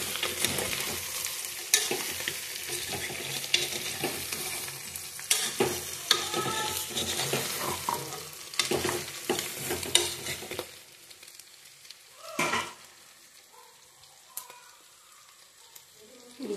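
Mutton sizzles and crackles as it is stirred into a pan of fried onions for a curry, a steady loud frying hiss that drops to a quieter simmer partway through, with a few spoon scrapes.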